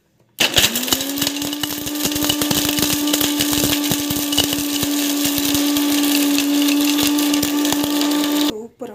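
A kitchen mixer grinder blending coconut runs with a steady, loud motor whine for about eight seconds, starting abruptly and cutting off near the end, with a crunching, rattling grind of the coconut throughout.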